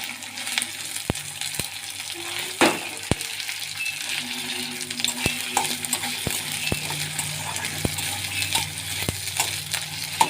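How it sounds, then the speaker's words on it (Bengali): Ginger, onion, garlic and tomato being sautéed in a pan, with a steady sizzle and repeated sharp clinks of a spoon stirring against the metal throughout. "আদা পেঁয়াজ, আদা রসুন দিয়ে দিলাম, কষতে থাকবো, ভালো করে কষতে থাকবো"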